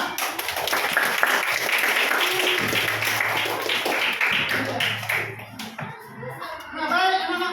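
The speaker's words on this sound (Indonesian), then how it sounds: "Bapak tepuk tangan semua." Students in a school classroom clap together in a lively, full burst of applause lasting several seconds, then it fades as voices and quieter sounds take over near the end.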